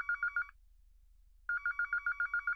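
Telephone bell ringing in a Hindi-dubbed South Indian film scene, two bursts of rapid trilling rings separated by a one-second pause, loud and alone with no talk.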